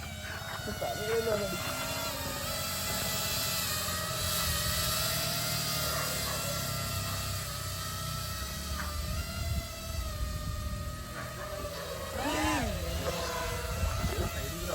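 A drone flies overhead, its droning whine holding steadily with shifting tonal sweeps as it moves, fairly close and continuous under wind and bits of background talk.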